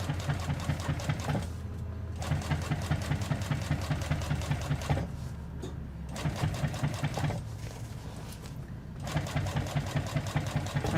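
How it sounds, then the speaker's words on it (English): A needle feed walking foot sewing machine stitches zip tape in rapid, steady bursts, with a close rhythmic motor chatter. The machine pauses briefly several times between runs of sewing. "You've got to be very clear about the way the sewing machine is set up."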